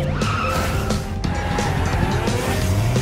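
Car braking hard with tires squealing and skidding, a loud screech over a rumbling engine with a sharp knock partway through, no voices.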